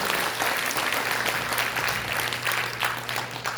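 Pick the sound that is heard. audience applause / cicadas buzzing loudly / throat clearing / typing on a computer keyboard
audience applause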